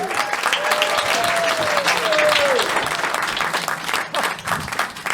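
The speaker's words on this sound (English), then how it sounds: "That was a very nice warm applause from our Tell Us Another One audience" A studio audience at a live stand-up, sketch and improv comedy show breaks into warm, sustained applause for the host, a dense wash of clapping that stays loud before slowly thinning, with a whoop rising over it.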